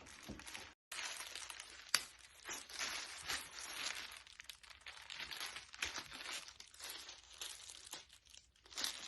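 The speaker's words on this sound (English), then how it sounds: "since these are so tightly wound, I'm just going to cut them off" Tightly wound rubber bands being cut off tie-dyed clothing by hand: close crinkling and rustling of damp fabric and plastic with brief snips, one short pause near the start, no talking.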